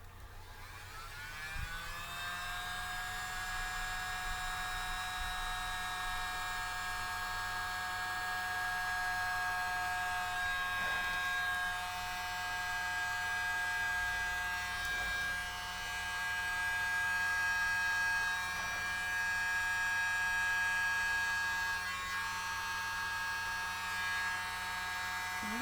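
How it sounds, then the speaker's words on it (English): A small mini blow dryer whirs up and then hums steadily and fairly quietly, a constant high-pitched electric drone with a slight waver. "mini blow dryer."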